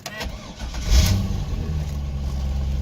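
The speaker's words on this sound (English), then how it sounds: "Car fires up, runs good." A used car's engine cranks and catches, then settles into a steady idle, close and fairly loud with no talking over it.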